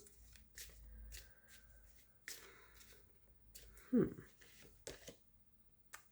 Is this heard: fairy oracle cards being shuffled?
yes